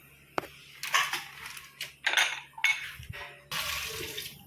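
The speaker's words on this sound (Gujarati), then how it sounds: "બટેકાને 2-3 પાણીથી આપણે ધોઈ નાખ્યા છે." Potatoes washed under running water in a kitchen sink, with irregular bursts of splashing and gushing as the water flows and the potatoes are handled, close and alone.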